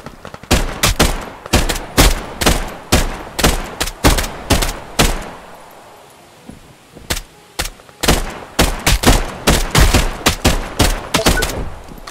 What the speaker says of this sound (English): Shooting to our right. Where is it? Shooting ahead of us as well.